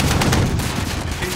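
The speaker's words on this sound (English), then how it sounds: "They shoot people in the turret." Dense, continuous gunfire from a Warzone video game battle around a turret, a steady rapid stream of shots loud and close throughout, with no talk over it.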